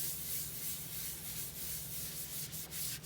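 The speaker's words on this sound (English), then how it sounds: "We'll start off scrubbing this side with the Comet." A white cast iron sink scrubbed with Comet cleanser and a little dish soap, giving a loud, continuous gritty rubbing with rhythmic back-and-forth strokes, close up and without talk.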